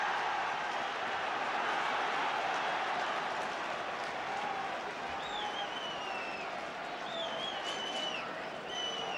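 A football crowd at Manchester United versus Wolves in 1972 reacts angrily to a penalty decision. Many distant voices roar in a sustained swell, with scattered whistles rising above the din.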